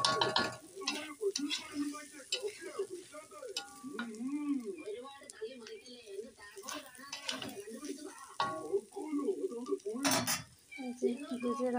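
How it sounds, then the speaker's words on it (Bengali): Fried chowmein being stirred and mixed in a hot pan over lowered gas flame, with steady sizzling and repeated scraping and clattering of a utensil against the pan, close and continuous. "ভেজে রাখা চাউমিনটা আমি এর মধ্যে দিয়ে দিলাম। এবার এই চাউমিনটার সাথে এইভাবে আস্তে আস্তে করে মিক্স"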